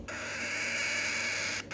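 A young pied parrot gives one rough, hoarse screech that lasts about a second and a half. It is close and loud, with no other sound around it.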